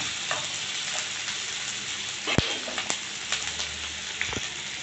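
Chopped onions sizzle lightly in a hot pan for chilli chapathi, a steady frying hiss with a few sharp clinks of a spoon scraping and stirring, close up with no talking.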